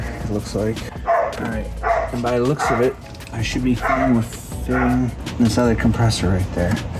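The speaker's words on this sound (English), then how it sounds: "Sorry for the dog barking." A dog barks repeatedly in short bursts close by, mixed in with someone talking steadily while working on a Miata's trunk.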